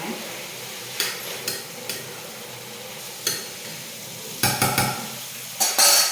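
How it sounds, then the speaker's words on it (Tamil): Spices tempering in hot oil in a home kitchen pan, a faint steady sizzle broken by several sharp clicks and stirring clatters, louder bursts near the end as spices hit the oil. "இந்த பக்கம் தாளிக்கிறதுக்கு எண்ணெய் போட்டிருக்கேன்."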